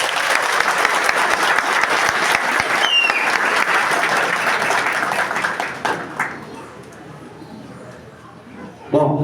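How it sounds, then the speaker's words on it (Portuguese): An audience at a Spiritist gathering applauds the singers, steady loud clapping that carries on for several seconds before tapering off, with a few sharp claps and a voice returning at the end. "Uma salva de palmas para os cantores."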